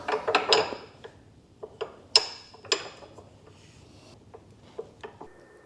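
Chrome bolts being worked into tight threads while mounting mini-boards on a Honda Goldwing motorcycle, heard as sparse close metallic clicks and taps, a quick cluster at first and then scattered single ticks with quiet between.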